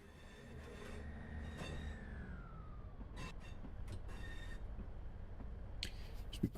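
A Scotrail Class 158 train in Train Sim World crawls through complex track work, with high, drawn-out squeals that glide downward and short sharp squeaks over a steady low rumble.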